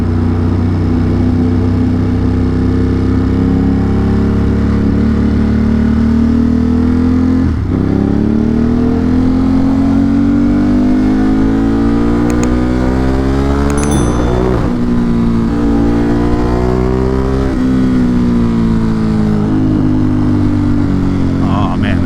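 A motorcycle engine rumbles steadily up close in city traffic, its pitch swelling and falling through several revs and gear changes, with a rider talking over it.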